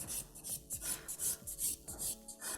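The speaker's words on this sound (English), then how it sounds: "Now I'm going to use my clean finish buffing file." A buffing file is rubbed back and forth over a sculptured pink and white acrylic nail, a close, rhythmic rasping of quick repeated strokes with no talking.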